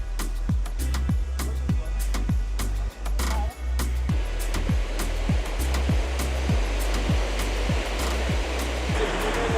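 Salto do Cabrito waterfall on the Azores, a steady loud roar of falling water, overlaid by a regular rhythmic mechanical thumping pulse throughout.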